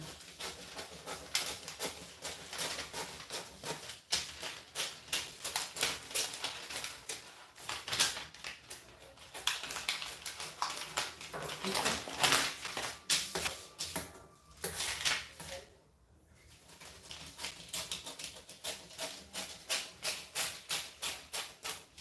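Scissors snip through fabric to cut out a waistcoat pattern, a quick rhythmic series of crisp close cuts with brief pauses between runs.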